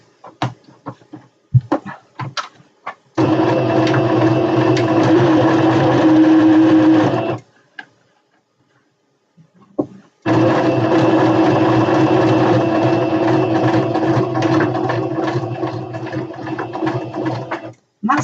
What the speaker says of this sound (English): And that's all the sewing done now.